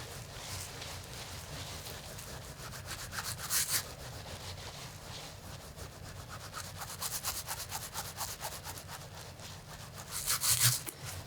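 Wet felt rubbed up and down on a palm washboard, rhythmic scratchy swishing strokes close by, growing louder in bursts, with no talking.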